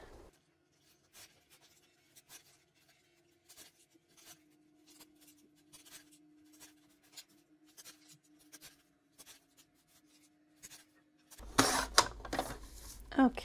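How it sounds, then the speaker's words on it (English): Printed paper planner inserts are trimmed on a cutter, producing faint, repeated scraping and sliding rasps with a low steady hum under them, before louder handling noise at the end. "So we'll just trim all of these."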